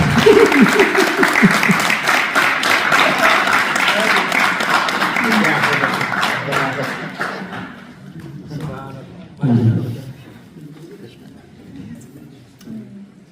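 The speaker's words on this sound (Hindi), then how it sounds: "हाजी सराज साहब के लिए बहुत सी तालियां दी।" Loud applause from an audience at an evening gathering honoring elders, sustained clapping for about seven seconds that then fades into scattered claps and a brief voice.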